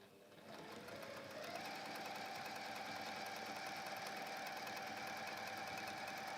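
A Mini Beast sewing machine runs steadily for the whole stretch after a brief spin-up, giving a continuous close mechanical whir with a fast stitching rhythm and no talk over it.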